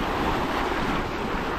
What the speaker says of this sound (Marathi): खूप हवा येते मित्रांनो, बघा